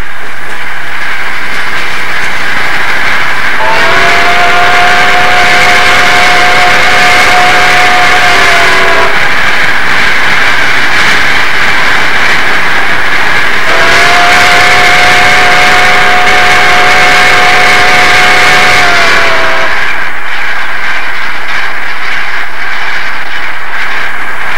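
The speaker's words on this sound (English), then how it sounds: "The AC-11's distinctive sounds echo and recede in the distance as she pulls away from Emigrant Gap." Southern Pacific AC-11 cab forward steam locomotive 4274 working hard up Donner Pass near Emigrant Gap, its chime whistle sounding in two long blasts over a loud, continuous roar of exhaust and rolling train.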